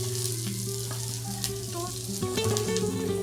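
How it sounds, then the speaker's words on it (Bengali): Small live shrimp fry in hot oil in a pan with a steady close crackle and hiss, accompanied by a faint melodic tune and a few brief clinks. "চিংড়ি মাছটা ভালো করে ভেজে নেব"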